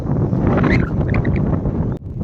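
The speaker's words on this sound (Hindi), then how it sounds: "हवा चल रही है तो थोड़ी आवाज़ मेरी आपको धीरे मिल रही होगी" Outdoor wind buffeting a microphone at a fruit plant plantation site, a loud continuous low rumble with gusty flutter filling the whole stretch, with no clear voice over it.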